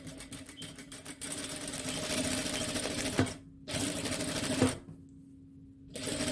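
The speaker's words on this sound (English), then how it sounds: "So we're stitching on the wrong side, okay?" A sewing machine runs a French seam on the wrong side of the fabric, humming in close, steady stretches broken by two short pauses.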